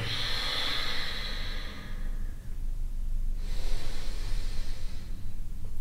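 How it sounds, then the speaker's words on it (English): Slow, deep breaths during a seated yoga hamstring stretch: a long breathy exhale fades out, there is a pause, and then another airy breath follows, close and fairly soft. "we're staying here for 5 more deep breaths"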